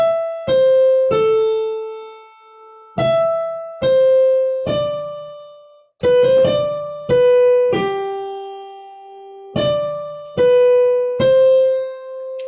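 The intro melody of the worship song Holy Forever is played note by note on a bright, bell-like keyboard tone, with clear separate notes and sustained ringing tails, alone and close.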